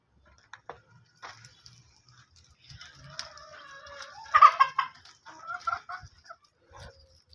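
Backyard chickens cluck and murmur at close to middle distance, with soft scattered calls building to a louder burst of clucking before settling again, with no talk.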